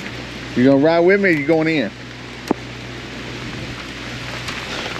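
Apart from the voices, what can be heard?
rain falling during storm aftermath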